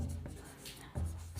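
Marker or chalk scratches across a classroom board between stretches of a voice, the writing strokes soft and brief beneath the talk.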